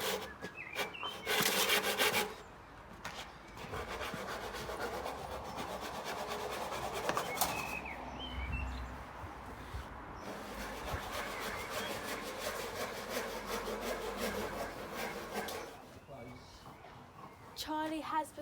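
Wood being sawn to make dressage balls, with steady rasping back-and-forth strokes that continue through most of the stretch, loud and near, with brief pauses between bursts.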